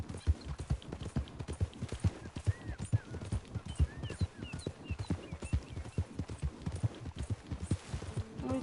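A horse gallops in the Red Dead Redemption 2 video game: rapid, rhythmic hoofbeats pound on without a break, close and steady, with no talking over them.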